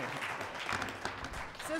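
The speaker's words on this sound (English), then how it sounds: "Give them a hand of applause" A rally crowd gives a short burst of applause, fairly faint and distant, with voices mixed in underneath.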